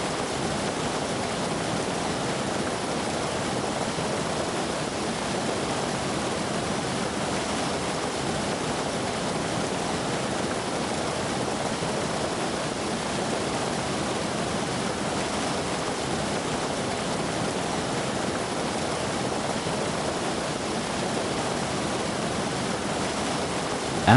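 Steady, loud rush of a muddy river after rain in Taiwan, flowing without pause as a dense broadband roar, with no voices and no clear breaks.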